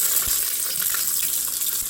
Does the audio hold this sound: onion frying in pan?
yes